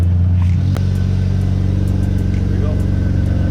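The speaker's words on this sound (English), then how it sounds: "let me quickly turn on my car and see it running" A BMW E36 engine runs at a steady idle close by, a loud continuous hum with a brief bump near the start and faint ticking over it.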